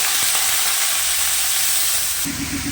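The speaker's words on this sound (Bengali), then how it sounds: "এর মধ্যে একটু কালো জিরে ফোড়ন দিয়ে দিচ্ছি। আলুটাও দিচ্ছি" Potatoes dropped into hot oil with a nigella seed tempering, a loud close sizzle and hiss that shifts to a fresh burst of crackling near the end.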